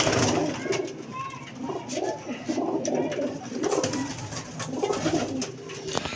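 Golden pigeons coo repeatedly up close, soft rolling calls in a loose rhythm, with a little background noise between them.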